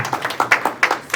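Scattered claps from a small audience at a declamation contest, a handful of distinct, fairly close hand claps in an uneven rhythm.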